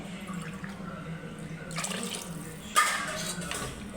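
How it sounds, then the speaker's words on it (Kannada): Water is poured into rice in a pot for piranje rice, a running, splashing pour that grows fuller and louder midway, with no talking. "ನಾನು ಮೂರು ಲೋಟ ಅಕ್ಕಿಗೆ ಆರು ಲೋಟ ನೀರು ಹಾಕ್ಕೊಳ್ತಾ ಇದ್ದೀನಿ"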